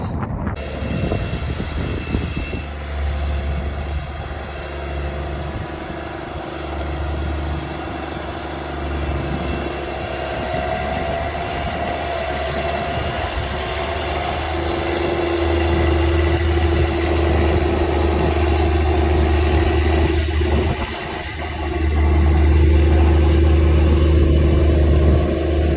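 A heavy tractor engine drones steadily nearby while drilling soybeans into corn residue, rising in pitch and loudness partway through, with low mechanical rumble and no voices.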